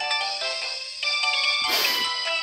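Mobile phone ringtone for an incoming call in a Telugu feature film: a bright, melodic electronic tune playing steadily and fairly loud, with no talk over it.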